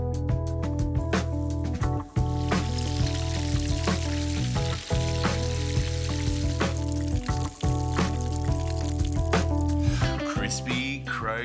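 Prosciutto and goat's cheese croquettes fry in hot oil with a steady, loud sizzle and crackle that runs unbroken throughout.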